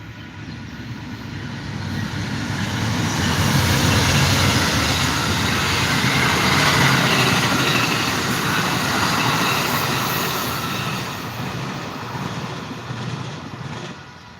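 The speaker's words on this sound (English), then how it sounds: "Little passenger train there." A small passenger train rolls past, a broad rumbling roar that builds, holds steady and slowly fades, with no voices.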